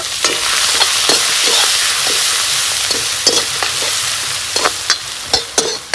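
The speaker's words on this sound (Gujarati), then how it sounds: "હવે અંદર નાખી દેવું આપણે મરચા કટિંગ કરેલા" Chopped green chillies tossed into a hot, sizzling pan for a potato and semolina snack, a loud steady frying hiss broken by repeated scraping clicks of a spatula stirring near the end.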